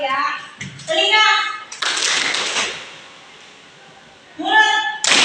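Students in a classroom clap their hands together in a call-and-response game, with a burst of group clapping between stretches of a teacher's voice speaking, fairly close and loud.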